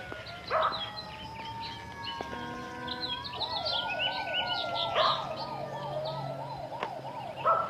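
Fire engine sirens wail near a nightclub burning through the night, several overlapping sirens at moderate distance with rising and warbling tones, alongside chirping birds and faint background noise.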